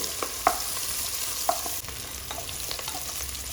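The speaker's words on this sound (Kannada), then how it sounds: "ಒಂದು ಪಾತ್ರೆಗೆ ಎಣ್ಣೆ ಸದಗೆಚ್ಚಿರೋಂಥ ಈರುಳ್ಳಿ ಈರುಳ್ಳಿ ಸ್ವಲ್ಪ ಫ್ರೈ ಆಗಲಿ" Chopped onions frying in oil in a pot for a curry: a steady, bright sizzle runs throughout, broken by a few sharp clinks and scrapes of stirring. Loud and close, with no voices.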